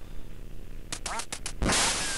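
Duck quacks in the NES game Duck Hunt: a quick series of four or five bright, buzzy electronic quacks, then a loud burst of noise like a gunshot, all close and clear.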